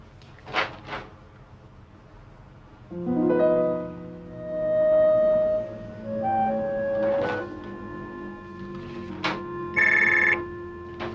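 A telephone rings in an office in the Indonesian sitcom Si Doel, with short bursts and then longer sustained electronic tones, loud and close, and no talk over them.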